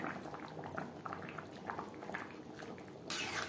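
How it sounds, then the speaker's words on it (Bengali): Maan Kochu Tangra fish gravy simmers in a pan, a quiet, steady bubbling with soft pops that swells into a brighter sizzle near the end. "গ্রেভি বেশ ভালো করে ফুটিয়ে নেব"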